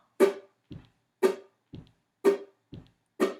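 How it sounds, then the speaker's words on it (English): A steady alternating pattern: a sharp bright foot stomp followed by a soft muted ukulele strum, repeated four times at an even tempo. "strum these muted strings when you would clap or snap"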